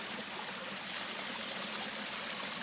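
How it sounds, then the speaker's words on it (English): Stream water flowing at a wilderness inlet, a steady close rushing and babbling wash that holds level throughout with no voices. "So this is our water inlet."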